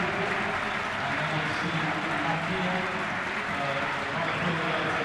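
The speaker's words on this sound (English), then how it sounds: "The Belper Town players, go across to their fans to rightfully clap them." Full-time applause at Meadow Lane after Notts County beat Belper Town 2–1 in a non-league football match, as Belper players and travelling fans clap each other: steady, dense clapping from a crowd at moderate distance, mixed with general stadium murmur.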